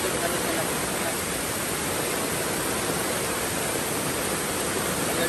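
Water at a farm rushes in a steady, loud broadband flow. The sound stays unbroken and close throughout, like water pouring or gushing from an outlet, with no other clear sounds on top.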